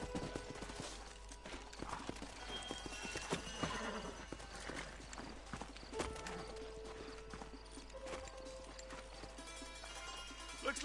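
Horses' hooves clip-clop at a run and a horse whinnies in the video game Red Dead Redemption, with rustling movement around them; fairly faint and steady throughout.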